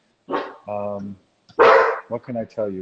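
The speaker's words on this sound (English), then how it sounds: "you can hear my dog barking." A pet dog barks indoors at a home in Buffalo, New York, giving a few loud, close yips and barks in short bursts while someone speaks over and between them.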